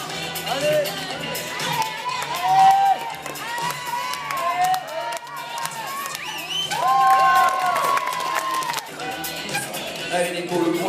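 A crowd cheers and applauds a rider during the semi-finals of a 26-inch UCI Trials World Cup in Albertville, with shouts and whoops rising and falling over a steady roar of spectators, close and lively throughout, and voices calling out.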